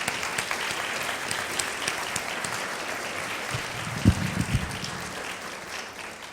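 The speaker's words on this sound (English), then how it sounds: "Let's have another round of applause for Dr. Roy." Lecture audience breaks into applause, a continuous patter of many hands clapping at moderate distance in a hall, steady for several seconds with a few louder claps and faint voices near the end.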